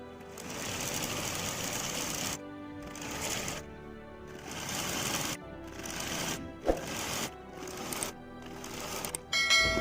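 A sewing machine stitches a double-folded bias strip for a baby top, running in loud, fast mechanical bursts of several seconds separated by brief pauses, close up and without talk.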